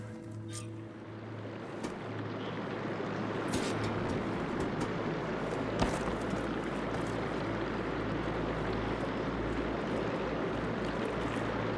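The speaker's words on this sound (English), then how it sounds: "Aloy, I can hear water in the room again." Water flows into a room in the video game Horizon Forbidden West, a soft steady rushing with occasional drips and splashes, growing slightly fuller partway through and staying low in level.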